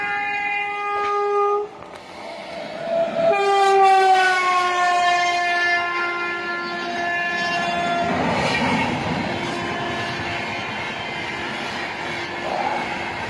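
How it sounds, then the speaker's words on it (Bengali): An express train on the Sealdah–Dankuni line sounds a long, loud multi-tone horn in two blasts, then rumbles past close by with steady rolling wheel noise. "সামনে যে একটা এক্সপ্রেস আসছে দেখুন।"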